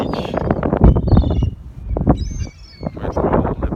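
Birds calling on Brighton Beach, a scatter of short chirps and higher calls over wind and beach bustle, fairly loud and close, without talk.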